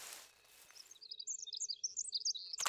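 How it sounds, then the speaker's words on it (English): A bird in the video game The Forest gives a run of quick, high chirps and tweets, fairly faint and alone against a quiet background, ending with a sharper burst. "That's a bird."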